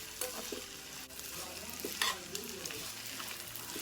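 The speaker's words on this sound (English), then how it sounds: "Yeah, love that sizzle. Music to my ears." Vegetables sizzle steadily in a hot pan while a utensil stirs them with scraping clicks, kosher salt just added to sweat the veggies for Gullah crab rice; close, continuous frying with no talk.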